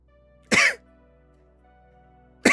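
Person coughing after smoking, two short harsh coughs close to the microphone, the first around the half-second mark and the second at the very end, separated by near silence.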